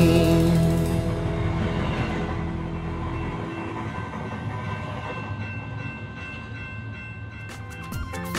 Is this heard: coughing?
no